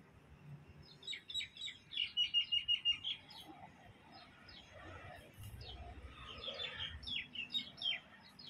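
A bird chirps in quick repeated bursts, fairly close, then pauses and resumes with a softer run of tweets over faint outdoor background.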